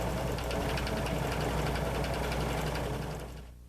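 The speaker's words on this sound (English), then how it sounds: "Serge the piping into the seam." A Huskylock 901 serger stitches piping into a fabric seam, giving a steady, fast mechanical whir with rapid rhythmic chatter that runs evenly and then winds down at the end, with no talk.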